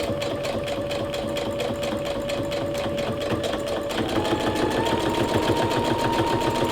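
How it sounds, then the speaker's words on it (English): A Brother SE625 sewing machine stitches through four layers of fabric with a loud, steady, rapid mechanical whir and clatter that picks up slightly in pace and intensity partway through. "I think 4 layers is good enough for this machine"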